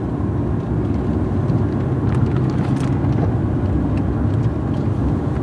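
A 2005 Cadillac CTS-V with a stick shift is being driven, heard as a steady, dense rumble of engine and road noise from inside the car with no voices.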